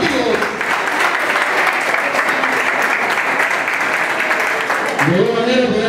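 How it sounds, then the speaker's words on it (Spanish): Strong audience applause for long-serving workers at a municipal Labour Day eve gathering, loud and continuous clapping from a crowd, with voices briefly audible near the end. "Fuerte aplauso a los trabajadores nombrados antiguos."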